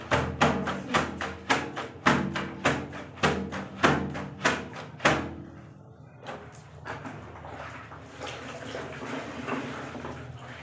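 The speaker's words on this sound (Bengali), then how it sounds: "এগুলো একটু ধুয়ে নিই।" Clothes are washed by hand with water in a bathroom, heard as about a dozen rhythmic wet slaps or thumps, close and fairly loud, followed by quieter sloshing and rustling water sounds.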